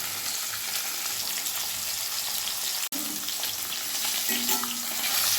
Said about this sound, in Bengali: এবার তেল গরম হয়ে গেছে, মাছগুলো আমি ভেজে নিচ্ছি।